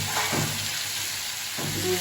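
Sliced ridge gourd and potatoes frying in a pan give off a continuous sizzling hiss, with soft stirring scrapes rising at the start and near the end.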